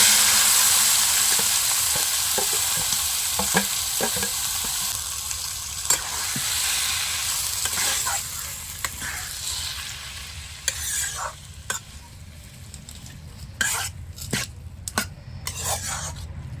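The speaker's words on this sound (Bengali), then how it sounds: "ফোড়নটা বেশ কালো কালো হয়ে এসছে এবার আমি এর মধ্যেই মেখে রাখা মাটনটা দিয়ে দেব" Marinated mutton for Bihari mutton tadka frying in a blackened tempering, a loud continuous sizzle with repeated scraping stirs, then sharp utensil knocks against the pan as the frying settles toward the end.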